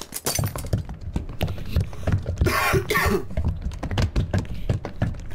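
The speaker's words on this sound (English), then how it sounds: "Sorry, I had to cough." A single harsh cough bursts out midway, surrounded by a rapid series of sharp clicks and knocks like work noises nearby.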